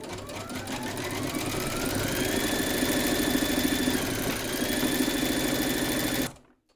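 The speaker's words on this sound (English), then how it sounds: "we're now going to stitch round number 7" An embroidery sewing machine stitches a round of a collapsible fabric bowl held in a hoop. Its dense, steady mechanical whir runs loud and continuous at close range, then cuts off abruptly just before the end.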